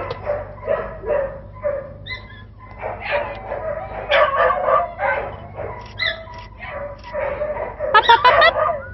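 A five-month-old puppy yips, whines and whimpers in repeated high-pitched bursts, close and fairly loud, with brief pauses between cries.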